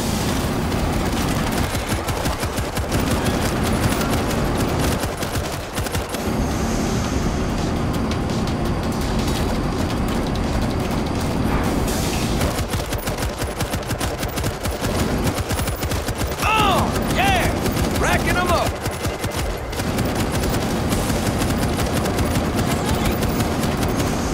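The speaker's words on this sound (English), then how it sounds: "Put down a 50 cal turret." A .50 caliber machine gun turret firing in the zombie shooter World War Z, long stretches of dense rapid bursts mixed with other game noise and occasional shouts, loud and sustained over more than twenty seconds.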